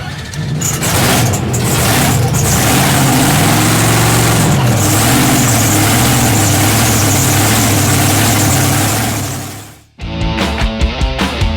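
A 2,500-horsepower drag racing car engine idles loudly and roughly up close, a steady heavy rumble that cuts out near the end before a choppy, pulsing restart.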